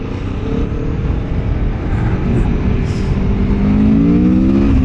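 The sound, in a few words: 2024 Aprilia Tuono V4 Factory motorcycle accelerating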